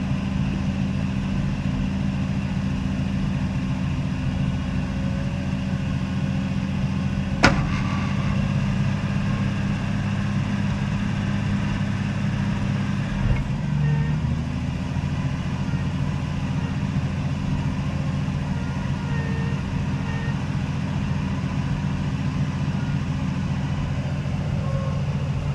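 A Jeep's engine runs steadily during a snow recovery, a low continuous rumble that stays even throughout, with one brief sharp knock partway through and no voices.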